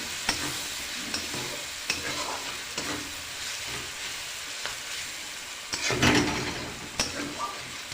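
Onions stirred and frying in oil in a pan while cooking a tilapia fish curry, with steady close sizzling and repeated scraping strokes of a spoon, one louder burst of stirring near the end; no talking.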